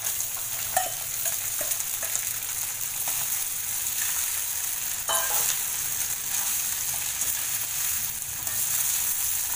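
Sabudana khichdi with potato, crushed peanuts, salt and sugar sautés in a pan over medium heat. A loud, continuous sizzle runs throughout, with occasional stirring clinks and scrapes close by.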